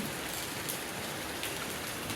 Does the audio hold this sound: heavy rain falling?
yes